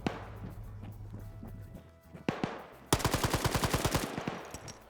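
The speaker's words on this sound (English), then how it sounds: "Zixme now trying to return fire" Gunfire in a PvP shooter video game: a burst of shots near 2.3 s, then a rapid automatic string of about a dozen loud, evenly spaced shots, with scattered game noise before.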